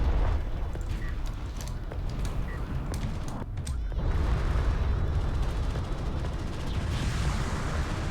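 Close-range missiles burst in a sci-fi strategy battle, a dense roar of overlapping explosions and rumbling impacts, loud and continuous with sharper cracks scattered throughout.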